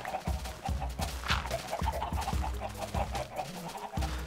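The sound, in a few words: chickens clucking on a chicken farm in Minecraft video game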